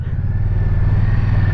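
An Indian Scout Rogue motorcycle engine idles and revs close by, a loud, steady low rumble with a slight rising push, heard alone for a moment.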